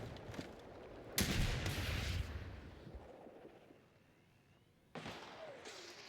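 Rocket launcher blasts and explosions in a video game ring out in two loud bursts, a long booming roar followed by a fainter tail and a second sharp blast near the end, with no one speaking.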